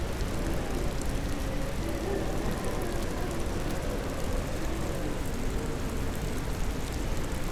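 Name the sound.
rain from Black Crow's power in Ghost Master video game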